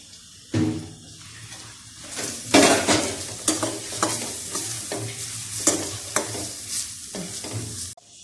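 Grated coconut roasts in a hot pan for a stingray curry, a close, loud sizzle that starts abruptly and is punctuated by repeated scraping stirs and spatula strokes throughout.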